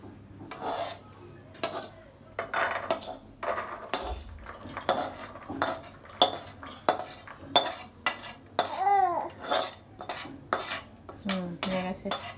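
A metal wok is lifted off the stove and handled, giving repeated clanks and scrapes of cookware and utensils at close range, with brief bits of talk between them.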